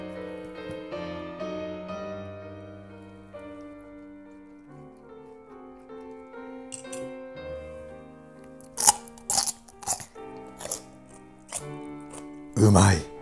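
Oven-baked wagyu steak is eaten after a stretch of talk and background music, with several distinct crunchy bites and chewing sounds close to the microphone toward the end.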